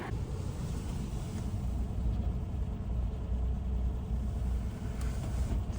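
A car engine rumbles steadily and fairly loud as the vehicle pulls off and drives, with a low, continuous drone and no voices.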